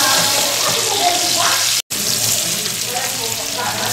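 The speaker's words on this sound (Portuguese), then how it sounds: "Vai fritando o alho." Garlic fries in a pan with sausage and smoked meat for feijão tropeiro, a steady close sizzling hiss broken by one brief dropout, with faint voice traces beneath.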